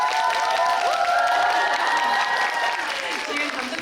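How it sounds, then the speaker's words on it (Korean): An audience claps steadily at a film screening Q&A event, with some cheering and scattered voices mixed into the applause, fading slightly toward the end. "박수 한번 치고"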